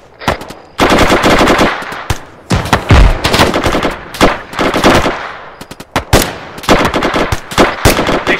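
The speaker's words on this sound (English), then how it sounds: "Yeah, keep firing there" Sustained automatic gunfire from a section of the 6th Airborne Division firing during a field exercise, loud and close, in dense rapid bursts with short pauses, no talk heard.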